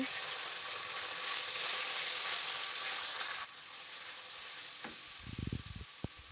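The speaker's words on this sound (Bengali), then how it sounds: "রসুন বাটা অল্প আদা বাটা সরিষা বাটা লবণ দিয়ে একটু নাড়াচাড়া করে নেব" Garlic, ginger and mustard pastes with salt sizzle steadily in hot oil for a pickle, the hiss dropping to a quieter fry partway through, then a few short scraping stirs and a sharp tap near the end.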